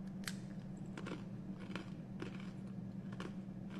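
Crunch Master multi-seed rosemary and olive oil cracker being bitten and chewed, producing a run of sharp, close crunches at a slow, uneven pace over a faint steady hum.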